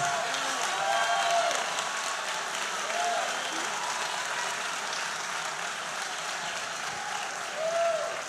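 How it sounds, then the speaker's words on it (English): Audience applause at a political talk event, continuous clapping from a crowd throughout, with a few faint voices mixed in. "A round of applause."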